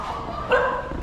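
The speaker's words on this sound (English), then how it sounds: "Look at this dog." A dog on a street in Ubud, Bali gives a single short bark that rises briefly over steady outdoor background noise.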